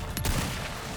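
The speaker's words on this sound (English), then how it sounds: "Can I still hit him with a shotgun before I melee him?" Shotgun blast in the Resident Evil 4 Remake during the final boss fight with Lord Osmund Sadler, one sharp close report with a booming low tail that decays into rumbling game noise.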